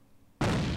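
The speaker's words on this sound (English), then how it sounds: "let's see if I can grenade it out of the way real quick" A grenade blast in a video game, a sudden loud broadband boom hitting partway through after quiet ambience and sustaining into a dense rumbling tail.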